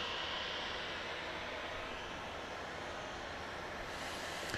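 Steady, distant roar of a Southwest Airlines Boeing 737 engine at Dallas Love Field, a broad, even rumble that stays faint and constant throughout, with no voices over it.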